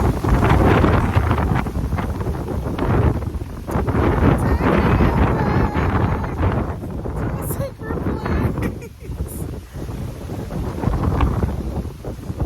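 Hurricane Ian wind roars outdoors in loud, continuous gusts that buffet the microphone, and a voice talks partly under the rumble.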